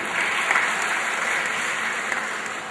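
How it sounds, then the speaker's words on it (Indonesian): An audience claps during a university public lecture at Universitas Negeri Surabaya, a loud, even wash of applause from a large crowd that holds steady for a few seconds. "jangan tepuk tangan dulu."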